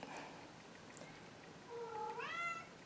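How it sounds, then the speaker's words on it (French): Pet cat meowing indoors, a single drawn-out, rising meow toward the end, clear and fairly close over quiet room noise. "comme toujours, mon chat miaule"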